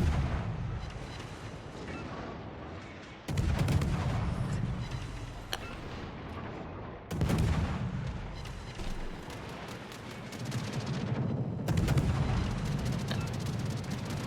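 Armor-piercing bombs from an Ohio battleship game exchange in World of Warships land in heavy, booming explosions, three or four deep blasts rising sharply out of a low rumbling battle din.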